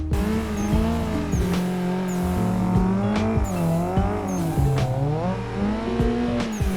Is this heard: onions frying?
no